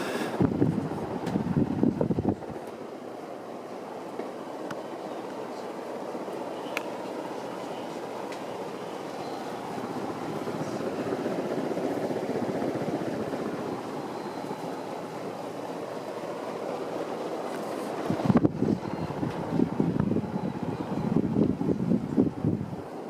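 A 1984 Casablanca Zephyr Inteli-Touch ceiling fan runs at speed, giving a steady low whooshing airflow rumble with a faint hum, with louder handling bumps at the start and end.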